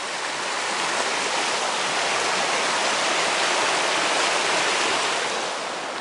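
A swollen, rising brown river rushes past close by, making a loud, steady roar of water that holds evenly from start to finish, with no talk.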